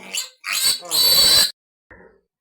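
Piglets squeal and grunt up close in a few short, high-pitched bursts, followed by a brief quieter snort.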